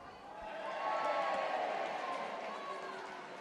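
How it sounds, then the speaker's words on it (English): A women's football crowd at a Tottenham Hotspur v Leicester City WSL match cheers a yellow card with a broad roar that swells and then holds steady, heard from a distance. "I suspect that cheer from the crowd signified a yellow card for Ruby Mace"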